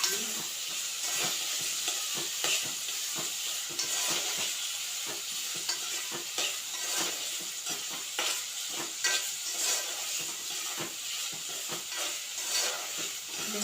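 Onions frying in a hot pan with steady sizzling throughout, broken by repeated scraping knocks of a spoon stirring them, close and fairly loud, no talking.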